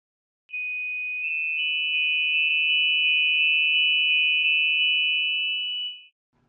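A steady, pure electronic tone holds at a single pitch for about five and a half seconds, clean and unwavering with no other sounds.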